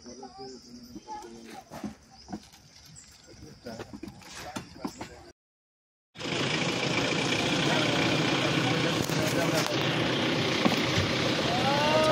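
Faint clicks and rattles come first, then a short silence, before a safari vehicle's engine in Similipal National Park starts a loud, steady, close rumble that holds to the end, with voices faintly mixed in.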